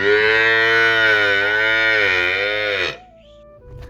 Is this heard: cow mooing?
yes